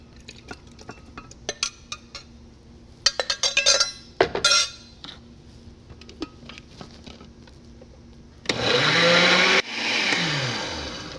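A blender blending soup whirs loudly for a few seconds, pauses briefly, then spins up again, after scattered clinks and taps of kitchenware.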